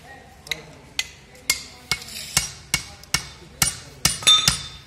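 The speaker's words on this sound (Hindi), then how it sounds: "छोटा हथौड़ी से ध्यान से मारना है ताकि ये क्रैक ना हो" Small hammer tapping a bearing cup into a press roll, about a dozen sharp metallic knocks at a steady rhythm of roughly two per second, close and clear.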